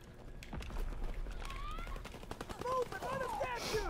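Teammates lay down covering fire in a paratrooper-themed shooter game: rapid bursts of gunfire crackle at a steady, moderate level, mixed with other busy battlefield sounds.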